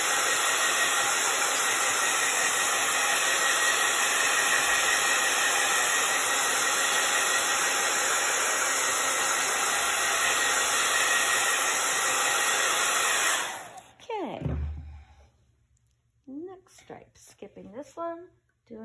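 A hair dryer blows a steady, loud hiss for about thirteen seconds to dry paint on a winter gnome craft, then clicks off, leaving brief handling noises and a voice speaking.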